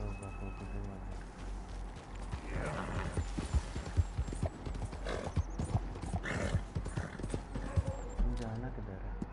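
Horse hooves clip-clop at a steady walking-to-trotting pace in Red Dead Redemption 2, mixed with game sound and a whinny, while a voice speaks over the hoofbeats.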